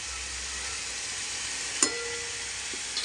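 Food sizzles in a hot pan as it cooks down and dries, a steady close hiss throughout with one brief sharp clink partway through and light knocks near the end.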